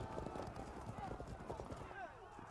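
Steady clip-clop of horse hooves in the medieval strategy video game Field of Glory II: Medieval, with occasional neighs and a busy battle din underneath.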